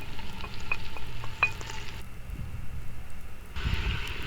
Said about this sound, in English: Add your rosemary and mix everything